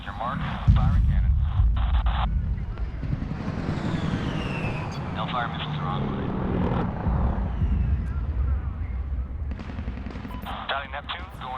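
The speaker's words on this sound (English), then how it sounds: "Firing cannon." Aircraft cannon fire in the Medal of Honor video game: dense, heavy booming bursts over a constant engine roar, with radio-style voices talking over the din.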